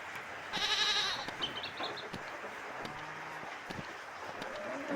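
A goat bleats in a few short wavering calls, moderately near, against outdoor background noise, with no talking.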